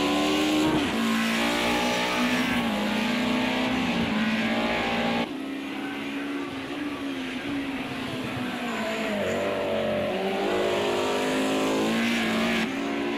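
Race cars roar around Oulton Park in Project Cars 2, including NASCAR-style stock cars on the road course, engines droning loud and continuous with shifting pitch as cars accelerate, downshift and pass, no talking.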